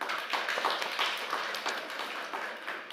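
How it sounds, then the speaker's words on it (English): A room of people clapping for a panel at a climate conference pavilion, a modest, uneven patter of hands from a smallish audience that fades slightly toward the end. "Please give them an applause."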